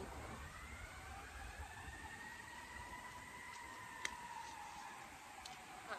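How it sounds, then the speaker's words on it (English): A faint, distant siren wails, its tone slowly sweeping up and down against a steady background hiss. "Siren."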